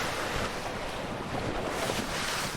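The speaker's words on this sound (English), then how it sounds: "once again you've got the wind over tide waves" Choppy wind-over-tide waves on a tidal river, heard as a steady, dense roar of surf and water with strong gusting wind buffeting the microphone throughout, and no voices.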